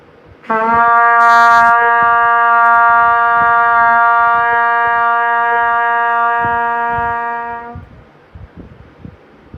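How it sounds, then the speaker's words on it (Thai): A single trumpet note, C, rings out, held steady and loud for about seven seconds before cutting off, with quiet room noise after. "เป่าทรัมเป็ตออกให้เป็นเสียงโดแบบนี้นะครับ"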